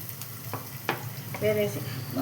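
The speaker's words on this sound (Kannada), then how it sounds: "ಈಗ ಇದಕ್ಕೆ ಸ್ವಲ್ಪ ಬಾಣಲಿಗೆ ಎಣ್ಣೆಯನ್ನು ಸೇರಿಸಿ ಸ್ವಲ್ಪ ಈರುಳ್ಳಿ ಬೆರೆಸುತ್ತೇನೆ" Onion being stirred into hot oil in a frying pan (kadai), a steady sizzle with a few scraping stir strokes, close and moderately loud, no voices.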